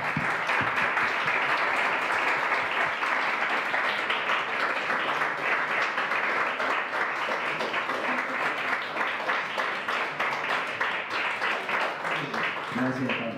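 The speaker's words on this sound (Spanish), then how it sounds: "si podemos darle un aplauso a Elliot" A startup-event audience gives a standing ovation for a speaker, sustained dense clapping that stays steady and loud throughout, with voices mixed in underneath.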